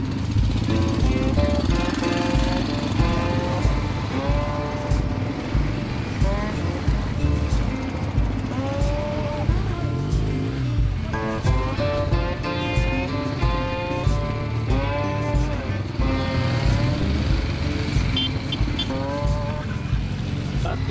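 Motorcycle engine held on a light, steady throttle during a stunt-riding training session, a continuous buzzing drone with small rises and dips throughout, with a voice speaking over it.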